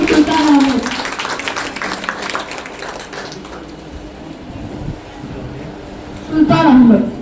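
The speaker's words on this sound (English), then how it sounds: "Please give a big round of applause and welcome Sultan Ahmed." Applause from an audience at an academy's final-day certificate ceremony, a steady wash of clapping that rises and falls over several seconds, with voices speaking over it at the start and end.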